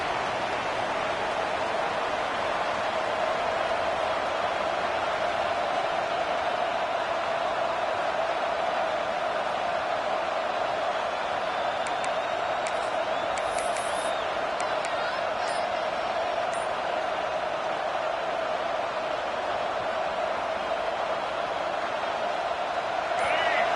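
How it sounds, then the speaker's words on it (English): A football stadium crowd roars in support of the home defense, filling the space with a dense, continuous wall of cheering noise that holds steady throughout, with faint speech mixed in. "Listen to this crowd just shaking the girders of this place, trying to help their defense"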